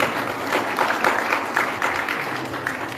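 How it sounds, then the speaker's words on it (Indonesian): Applause from an audience at a medical school graduation and doctors' oath ceremony, a steady patter of many hands clapping at moderate loudness for a few seconds. "Tepuk tangan."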